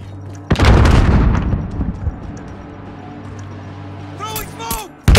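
Call of Duty: Modern Warfare grenade explosion, a sudden loud boom that rumbles and decays over a second or more, followed by scattered gunfire and another sharp blast at the end, with voices talking.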